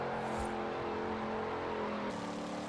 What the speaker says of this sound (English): can burn the tyres as much as I want because the American taxpayer will pay for me